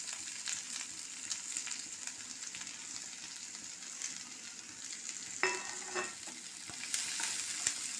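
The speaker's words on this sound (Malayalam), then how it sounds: "അതിലേക്ക് അരിഞ്ഞു വെച്ചിരിക്കുന്ന സാധനങ്ങൾ ചേർത്ത് വഴറ്റാൻ പോവുകയാണ്" Chopped ingredients sauté in a pan for a home-cooked curry, a steady close sizzle with occasional scraping stirs and a few sharper clinks near the end, no talking.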